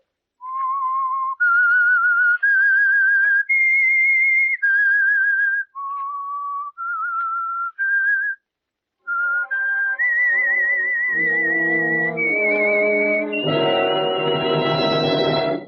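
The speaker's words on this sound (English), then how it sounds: "That whistle is your signal for the Signal Oil Program, The Whistler." The whistled opening theme of the radio drama The Whistler: a clear melody of sustained, slightly wavering notes, joined near the end by a swelling orchestral chord.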